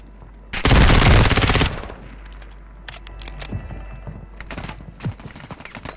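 A loud, close burst of rapid automatic gunfire lasts about a second in Call of Duty Warzone, followed by scattered sharper shots and clicks at lower volume.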